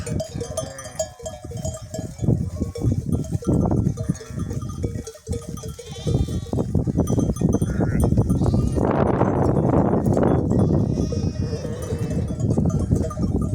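A flock of sheep bleats repeatedly while being herded outdoors, with overlapping near and distant calls, a faint clank like a bell, and someone speaking between the bleats.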